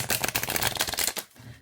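Cat Full of Spiders tarot cards shuffled close to the mic in a quick, steady riffling burst that stops abruptly after about a second.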